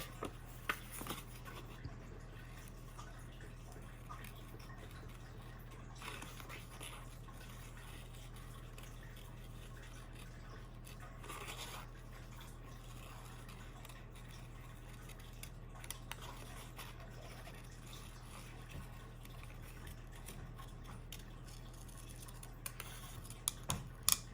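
Scissors cutting a shape out of a paper square: faint, close snips and paper scratches scattered over a quiet background hum, with no talking.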